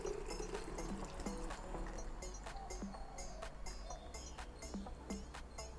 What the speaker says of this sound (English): Maybe I'll use a funnel as well. I'm going to pour it into my bottle.